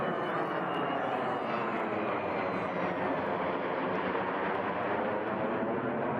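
US military jet aircraft flyover, a loud, dense, sustained roar of engine noise that stays strong and steady throughout, with no talk over it.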